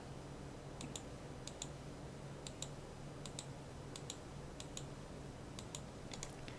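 Computer keyboard keys pressed while modelling in 3ds Max, a steady run of light, close clicks in small irregular bursts over a faint hum, with no talk.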